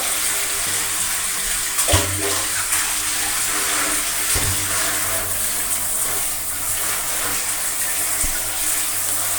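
Steady running water in a bathroom as a child bathes, a continuous loud splashing rush with a few brief bumps and no talk.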